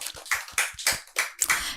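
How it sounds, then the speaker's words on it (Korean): A few people clapping in a quiet room, about six distinct sharp claps in an uneven rhythm, close and fairly soft, with no voices. "와, 박수!"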